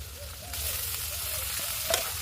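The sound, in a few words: meat frying in pan with onion, tomato, ginger, garlic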